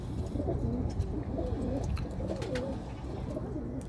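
A white-backed male pigeon coos steadily and close by in repeated low, rolling phrases, with faint chirps of other birds in the background.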